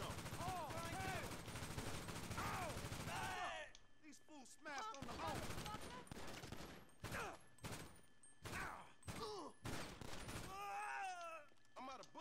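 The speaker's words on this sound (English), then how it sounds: "Why are they shooting at me?" Gunfire in GTA 5 Online: dense bursts of automatic shooting and rapid repeated shots from several weapons, loud and close, with gaps between volleys and a voice talking over parts of it.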